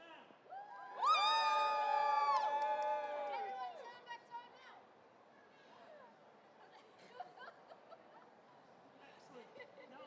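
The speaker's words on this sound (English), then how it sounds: "give me some massive cheering right now." An indoor crowd at a comics panel event breaks into loud, high-pitched cheering and whooping for a few seconds, then trails off into scattered shouts and murmured chatter.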